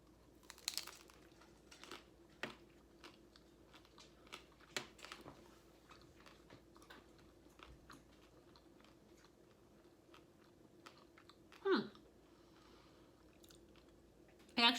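Chewing on a crunchy vegan taco in a taco shell, with soft, intermittent crunches and bites close up, quiet between bites and a louder crunch near the end.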